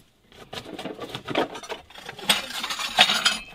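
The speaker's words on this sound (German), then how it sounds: "Ah, Gott, das war ein Teller." Crockery clattering and clinking as a plate is knocked about inside an abandoned flat in Rostock, a run of close, irregular dish and cutlery rattles scattered over a few seconds.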